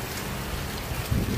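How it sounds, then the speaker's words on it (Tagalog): Rain falls steadily on a hot day, an even close hiss of drops with some low wind rumble, no voices. "Ganda naman po umuulan."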